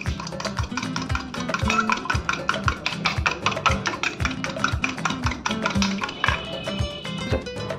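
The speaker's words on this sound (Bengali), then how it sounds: "দেবো একটু গোলমরিচ দিয়ে এটাকে একটু ফেটিয়ে নেব" Chicken being beaten in a bowl with salt and pepper, a fast, steady run of close, sharp whisking taps repeating for several seconds with no voices.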